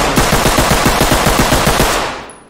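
Rapid automatic gunfire from the tactical shooter game Ready Or Not, a loud, close, steady burst of evenly spaced shots lasting about two seconds before trailing off.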